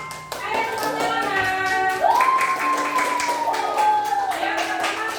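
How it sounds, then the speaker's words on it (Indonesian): Children in a classroom clap for a student group, with scattered, rapid hand taps that continue under prominent overlapping voices, including a high, sing-song shout. "Yuk, kita beri tepuk tangan dulu untuk kelompoknya Maulana yuk. Ayo tepuk tangan."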